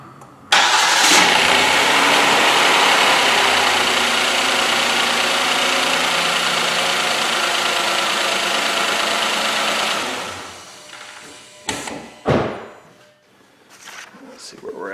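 Kia Sedona with a GDI engine cranking and catching, then idling with a busy mechanical ticking, loud and close for about ten seconds before it cuts off, followed by scattered clunks and handling noises.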